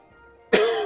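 A single sharp cough bursts close into a microphone after a quiet moment, from someone getting over a cold, with a short broadband onset and a fading tail.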